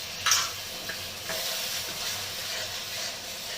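Spice paste with mustard powder frying over low heat in a pan for pabda fish curry, giving a steady close hiss and sizzle with a sharp stirring clank near the start and no voices.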